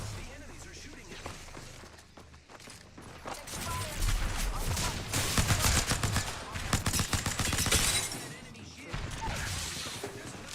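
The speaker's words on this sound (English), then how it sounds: "The enemies are shooting at me." Rapid bursts of video game gunfire from enemy fighters, loud and dense, with several heavy volleys between about 4 and 8 seconds and sparser shots before and after, over a busy backdrop of game noise.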